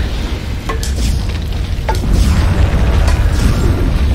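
Explosions and fire from the Captain America Super Soldier video game, a loud steady roar of crackling flames and rumble lasting throughout, with a few faint higher pops over the top.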